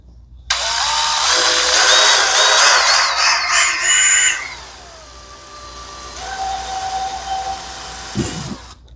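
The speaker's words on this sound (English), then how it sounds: "start the bit slow and get it to bite before you kind of start drilling through" Power drill boring into the front bumper of a 2003 Mustang Cobra: a loud, high whine for about four seconds, then a lower, quieter spin-down whir, ending with a brief knock.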